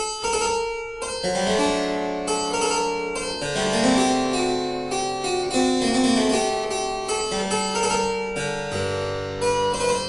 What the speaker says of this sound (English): which is like a slide or a little glissando.